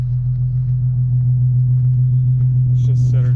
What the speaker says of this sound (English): I think it sounds pretty good for just a muffler delete